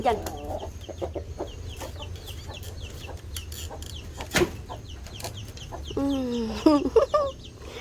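Chickens cluck in a home yard, a rooster among them, with soft clucks scattered through steady background noise and a louder burst of calls near the end; a person speaks faintly at moments.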